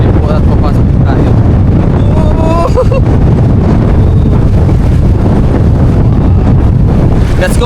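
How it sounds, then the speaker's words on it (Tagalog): Strong wind blowing across open sea while out fishing in a small boat, a loud constant roar buffeting the microphone, with a voice faintly heard beneath it. "Malakas yung hangin talaga ngayon."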